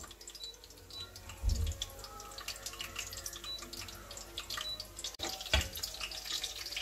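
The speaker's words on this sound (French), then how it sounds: "Un peu d'eau." Water poured from a tap into fish for a malangwa bouillon, a steady close splashing stream with a couple of low thuds and clinks from the pot, no talking.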